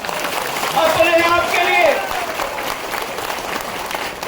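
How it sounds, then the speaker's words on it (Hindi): A crowd at a political voter-thanks rally in Bamori breaks into broad applause and cheering that swells and then stays steady, with a voice speaking over it. "तालियों की गड़गड़ाहट लगाओ"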